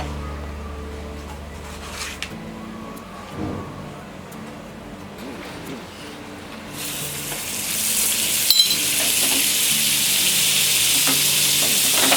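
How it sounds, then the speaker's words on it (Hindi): Frying and sizzling in a pan as a vegetable Frankie wrap toasts for Mumbai street food, a soft sizzle that swells into a loud, bright hiss partway through, with no voices. "हम इसे दोनों तरफ सिर्फ आधा ही सेकेंगे और इसे प्लेट में निकाल देंगे।"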